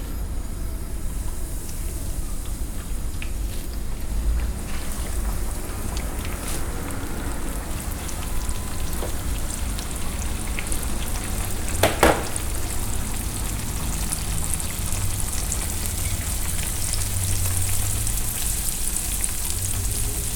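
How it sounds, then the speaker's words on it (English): Salmon skin fries in a pan until crispy, giving a dense, even sizzle and crackle that runs unbroken and fairly loud, with one brief sharper pop partway through. "just fry it up until it get really crispy"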